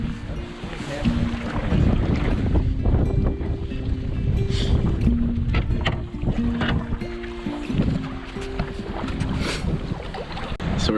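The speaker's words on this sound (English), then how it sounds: "still paddling in the heavy winds" Heavy wind buffets the microphone while a canoe is paddled across Burnt Island Lake in Algonquin Park. The gusts roar loudly and continuously, with water sloshing and paddle splashes underneath and no talking.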